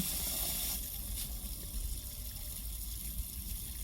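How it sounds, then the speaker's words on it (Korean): Water drains out of a frost-proof outdoor faucet after it is shut off, making a steady, soft gushing and trickling that runs throughout, somewhat faint and close. "잠그면 원래 물이 빠지고 안에 게다 빠지고 나서는"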